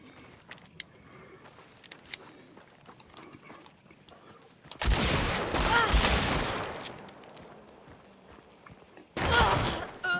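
Shotgun fight in the video game Hunt: Showdown: quiet stretches of faint footsteps and clicks, then a loud sustained blast of gunfire and a second heavy shot near the end.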